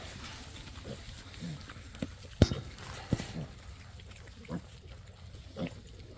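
Pigs in a farm barn feed on bagels, giving scattered soft grunts and a few sharper snorts and knocks over quiet background noise.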